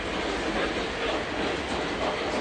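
A model train runs steadily on a Fast Track layout, giving a continuous close rolling rumble with light clickety-clack from the track, no voices.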